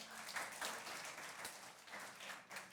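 A church congregation breaks into a short burst of applause, many hands clapping together at a soft, distant level with no talking.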